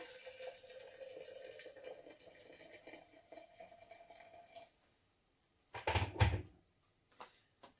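Just-boiled water pours steadily into a vessel to brew tea for several seconds with a faint ringing tone, then stops; a quiet clunk of a lid or press follows.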